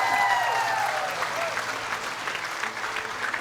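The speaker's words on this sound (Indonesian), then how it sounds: "Boleh minta tepuk tangan sekali lagi untuk Mbak Nurasana." Studio audience on a TV game show bursts into sustained, loud applause with scattered cheering, steady clapping filling the whole stretch.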